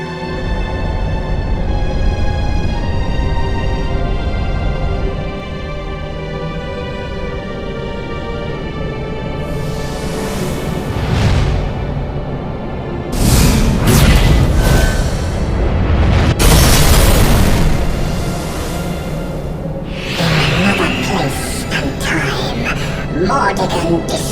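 Erdwin's lantern falling and crashing in Dragon Quest XI, with heavy booming impacts and rumbling crashes rising over a sustained orchestral score, loud and close; a voice speaks before the crash.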